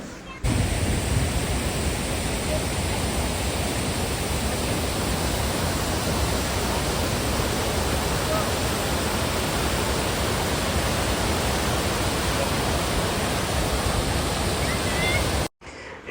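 The Pykara waterfall pours down steadily from a mountain height, a dense, continuous roar of falling water, loud and close, holding constant for the whole stretch before cutting off abruptly at the end.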